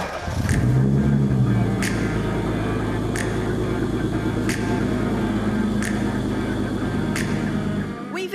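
A car engine starts after a touchscreen button is pressed, then settles into a loud, steady idle that runs throughout, with faint regular ticks above it.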